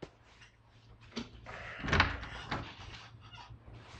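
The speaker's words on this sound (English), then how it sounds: "Door's unlocked." An unlocked interior door swings open in a quiet room, giving a short creak and thump near the middle, with faint room noise around it and no talk over it.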